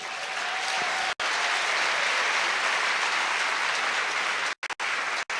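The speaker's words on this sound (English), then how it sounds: "Congratulations, graduates. You may clap hands for yourselves." Graduates at a university medicine and health sciences graduation ceremony clapping together in a large, sustained wash of applause, loud and even with a few brief breaks.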